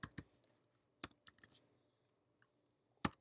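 Keys on a computer keyboard are struck in a short, sparse sequence of sharp clicks, close and crisp, with brief pauses between taps in an otherwise quiet room.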